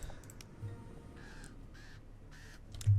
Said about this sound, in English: Stop the crows.